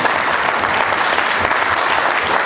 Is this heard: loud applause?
yes